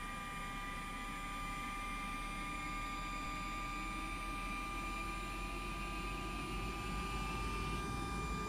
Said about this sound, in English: Starting engine 1.